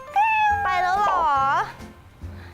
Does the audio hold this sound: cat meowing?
yes